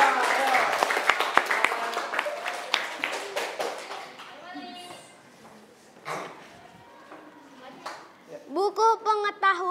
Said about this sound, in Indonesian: Tepuk tangan untuk kelompok puisi.